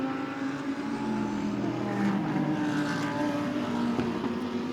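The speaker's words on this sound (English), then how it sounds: "the different sounds as well of all the different engines" GT3 race car engines during night qualifying at the Spa 24 Hours, a loud, steady, continuous engine roar with a droning hum and no voices.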